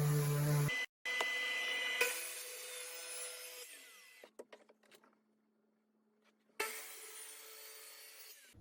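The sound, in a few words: sander sanding wood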